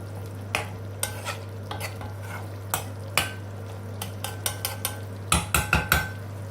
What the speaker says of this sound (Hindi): घुमा लेंगे ताकि मसाला अच्छे से अंडों में